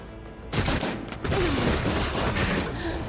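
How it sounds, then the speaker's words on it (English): Burst weapon firing in the grimdark space game Rogue Trader: after a brief quiet moment, a loud rapid fusillade of shots erupts and rolls on with mechanical clatter and booming impacts. "I kind of want to see this burst weapon in action."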